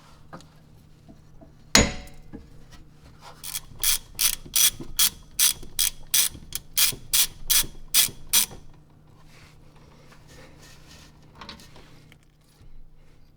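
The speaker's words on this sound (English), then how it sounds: "This is a 1/2 inch breaker bar or something like that, and you can just go ahead and pop that out" A 1/2 inch breaker bar and ratchet working loose the rear differential drain plug on a Subaru WRX STi. One sharp clank comes first, then a rapid, even run of loud ratcheting clicks, close up with no talking.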